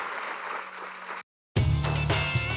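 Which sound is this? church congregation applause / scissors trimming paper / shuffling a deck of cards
church congregation applause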